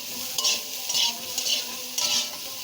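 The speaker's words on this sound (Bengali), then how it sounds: "এরকম কুমড়োটা কিন্তু ভালো করে ভাজতে হবে" Pumpkin pieces frying in hot oil: a steady crackling sizzle with periodic louder bursts of bubbling as the pieces are stirred, close and continuous, no voices.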